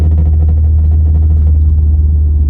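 A Toyota GR86 with a suspected power-loss problem is driven, its engine giving a loud, steady low rumble heard from inside the car with no talk.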